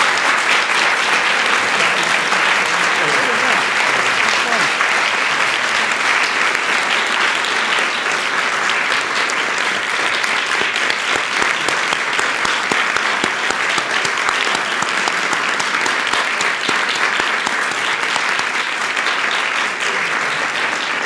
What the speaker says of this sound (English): How about a round of applause for our speaker?